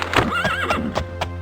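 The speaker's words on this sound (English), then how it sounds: "Might as well get on the horse." In the video game The Elder Scrolls II: Daggerfall, a horse gives a loud, wavering whinny close by, mixed with clip-clopping hooves over a steady background hum.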